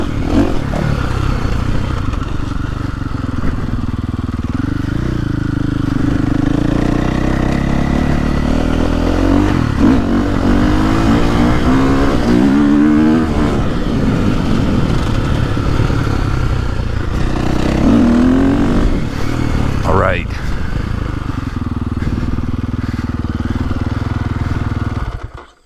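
KTM 450 Factory Edition dirt bike being ridden, a steady close engine drone with repeated throttle rises and falls, wind and clatter underneath, loud throughout.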